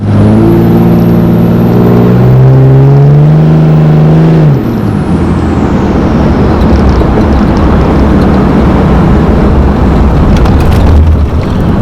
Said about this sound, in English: this truck sounds just totally different